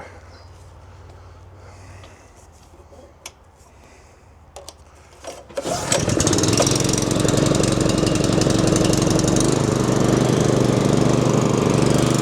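After a few clicks and clunks, a Kenworth truck engine sputters into life and runs loud and steady, with a rough buzzing exhaust note.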